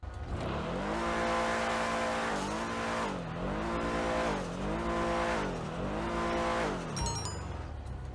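The Annis Hellion off-road car engine in GTA Online drones and revs in repeated rising and falling sweeps, loud and close, with a brief high squeal near the end.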